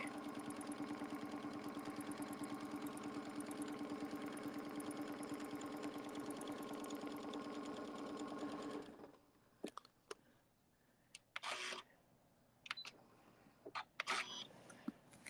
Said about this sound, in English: Few stitches forward, few stitches back.